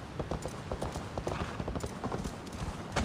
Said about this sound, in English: Then the horse walks.